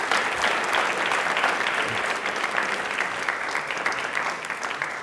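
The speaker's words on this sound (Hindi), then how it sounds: "तालियां जोरों से दिल से बजा दीजिए मालिनी मैम को" A dense, loud round of applause fills a studio audience throughout, steady clapping from many hands with no break.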